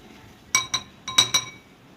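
A fork or whisk strikes a bowl while egg is beaten: five sharp glassy clinks in two quick clusters, close and fairly loud over near silence.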